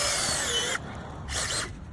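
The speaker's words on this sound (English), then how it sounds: "Begin by drilling the pilot hole into the soil" A power drill bores a pilot hole into soil ahead of a ground screw installation, a loud close whirring drone that stops briefly partway through, then resumes in a short burst before fading.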